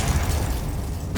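A Confringo fire spell in Hogwarts Legacy bursts as a loud, close explosive blast with a deep low rumble that rolls for about a second, ending in a sharp crack.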